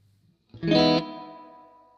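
A short string note is run through a granular reverb, a bright chopped attack that breaks off abruptly and leaves a smooth, fading tail ringing out alone.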